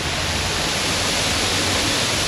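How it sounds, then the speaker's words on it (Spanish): Steady, dense roar of the Cascada del Amor waterfall near Jardín, Antioquia, a broadband rush of falling water that stays constant and fairly loud throughout, with no voices. "Pasa por esta cascada que es muy conocida, es la cascada más cerquita que hay del pueblo. Esa es la cascada del amor."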